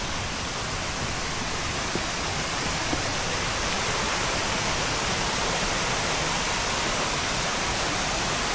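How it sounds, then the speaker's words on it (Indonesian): A waterfall at post 1 on the Gunung Maras trekking trail gives off a constant broadband rush of falling water, loud and unbroken, heard alone without voices throughout. "Nah, itu air terjunnya."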